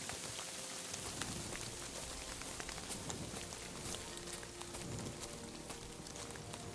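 In the game Kingdom Come: Deliverance II, a steady soft hiss of rain falls continuously, with dense tiny droplet patters and no speech over it.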